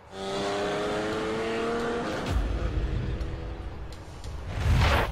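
Racing game car in The Crew on PlayStation, engine droning and shifting, then tires squealing and skidding through a corner, up close with no voices.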